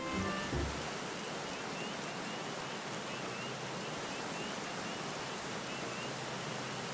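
Waterfall ambience in the video game Final Fantasy 14, a steady broadband rush of falling water that holds constant throughout, fairly quiet and uninterrupted.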